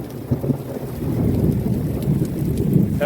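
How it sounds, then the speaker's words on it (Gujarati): Heavy rain pours down during a thunderstorm in Bagasara, a dense, steady hiss with a deep rumbling undertone of thunder that swells slightly over a few seconds, with no voices. "ગાજવીજ સાથે બગસરાની અંદર વરસાદ ચાલુ થઈ ગયો છે."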